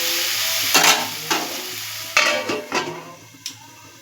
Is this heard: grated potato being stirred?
yes